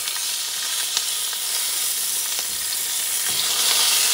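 Salmon pieces frying and browning in a hot pan for wraps, a loud, steady, close sizzle and hiss with occasional small pops and stirring touches, heard alone.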